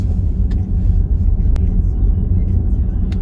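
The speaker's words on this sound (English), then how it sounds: "I'm driving only 30 miles per hour." A Volkswagen ID.4 electric car drives slowly along a snowy road at about 30 mph, giving a steady low rumble of road and tire noise inside the cabin, with a few faint clicks over the drone.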